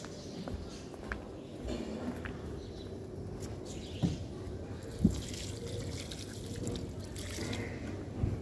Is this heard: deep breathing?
no